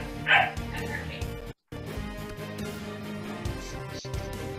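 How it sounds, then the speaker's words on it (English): A dog barks sharply once near the start, then yips and barks faintly later under ongoing game noise and a voice talking, with a brief dropout midway. "What's going on with your dog, man?"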